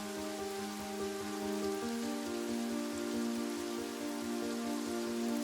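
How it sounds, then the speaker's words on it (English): Steady gentle rain patters continuously on surfaces at night, an even soft hiss of drops with no pauses, accompanied by a sustained low musical tone underneath. "Listen to the rhythm of the rain. It is a steady, comforting sound."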